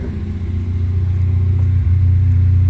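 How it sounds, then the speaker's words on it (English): A 2013 Cadillac ATS 2.0L turbo engine idling rough with a misfire, a loud close uneven rumble with a lumpy, unsteady pulse throughout. "You can actually hear it misfiring."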